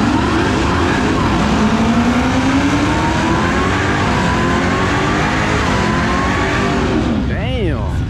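A car doing a tire burnout at a drag strip during a Texas street car takeover, a loud continuous engine roar with screeching tires that holds steady throughout, while voices talk over it.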